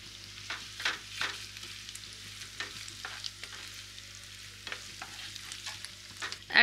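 Chopped onion and ginger garlic paste being fried and stirred in a pan, with a steady low sizzle broken by repeated scraping stir strokes, close and moderately quiet throughout.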